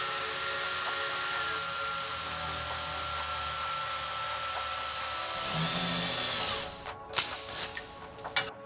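A power drill spins steadily, twisting two wires into a single strand. The whir holds for about six seconds, then winds down and gives way to a few short clicks and taps.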